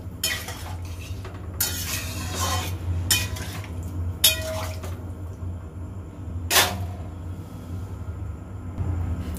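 Boiled kabuli chickpeas are stirred in a cooking pan, with a utensil scraping and clinking against the metal in several short, close bursts over a low background hum.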